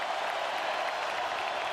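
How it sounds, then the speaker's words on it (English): A football stadium crowd at Memorial Stadium during an Illinois Fighting Illini game against Michigan roars in a steady, dense wash of cheering and clapping, loud and continuous throughout. "Now the crowd coming to life"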